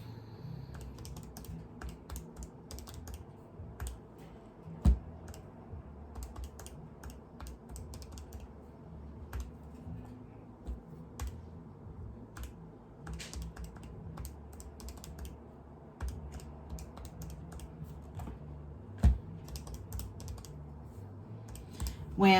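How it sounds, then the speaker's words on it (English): Numbers being keyed into a calculator: a steady run of light, close plastic key taps with a few sharper presses, over a low background hum and no speech. "I'm going to put it in the calculator."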